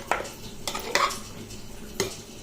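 A spoon stirs rice and masala in a metal pot, with a few sharp scrapes and clinks against the sides over a quiet background.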